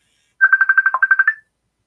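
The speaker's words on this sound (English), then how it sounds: "Is my phone ringing?" Mobile phone ringtone chirping in a quick run of about ten bright, evenly spaced electronic pulses, close and loud, ringing alone for about a second before cutting off.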